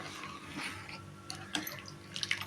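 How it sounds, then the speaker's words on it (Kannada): Water poured into a pot of raw mango sambar on the stove, a steady close splashing and trickling with a few sharper drips toward the end. "ನೀರು ಹಾಕೊತ ಇದ್ದೀನಿ"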